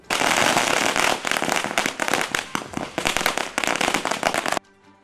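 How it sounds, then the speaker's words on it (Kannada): A rapid string of firecrackers bursts loudly and continuously for several seconds at a political celebration in Mandya, crackling in dense volleys before stopping abruptly into quiet. "ಅಧ್ಯಕ್ಷರ ಬೆಂಬಲಿಗರು ಹಾಗೂ ಮೂಲ ಕಾಂಗ್ರೆಸ್ ಕಾರ್ಯಕರ್ತರು ಪಟಾಕಿ ಸಿಡಿಸಿ ಸಂಭ್ರಮಿಸಿದ್ರು"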